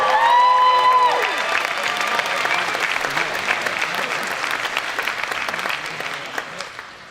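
Audience applause fills a university commencement ceremony, a dense burst of clapping that follows a brief tonal sound and then holds steady before slowly thinning and fading over several seconds.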